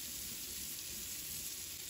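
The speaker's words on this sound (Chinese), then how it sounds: "再把黄瓜放到锅里，继续给它翻炒一下" Cucumber is stir-fried in a wok and gives off a soft, continuous sizzle with faint stirring, quiet and steady throughout with no voices.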